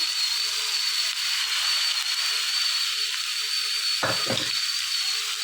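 Boiled chickpeas and a tempering fry in a pan with a steady, hissing sizzle throughout, broken near the end by a brief clatter of stirring.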